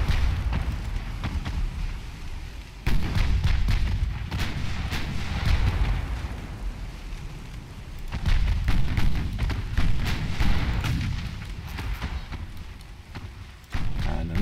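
Naval guns firing and shells striking ships in the warship game Ultimate Admiral Dreadnoughts: a continuous barrage of deep, rumbling booms and heavy thuds, loud and close, with salvos rolling into one another.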